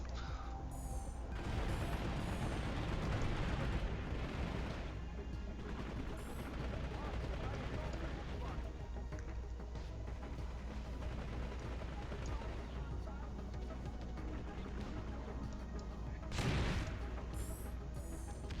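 A grenade goes off amid rapid gunfire in a large online shooter battle, with dense automatic bursts and booming blasts rolling continuously, one sharp explosion standing out near the end, while players talk over the chaos.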